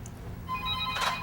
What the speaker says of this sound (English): Answer that phone, dude. Answer it.